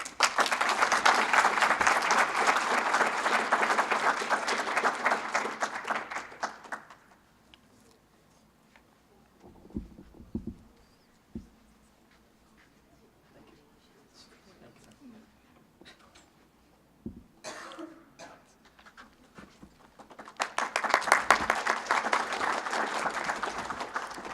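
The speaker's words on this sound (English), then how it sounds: "Let's have a big round of applause." Loud applause from a conference audience for challenge-winning teams, a sustained burst of clapping that fades out, a quiet stretch of small sounds, then a second strong round of clapping near the end.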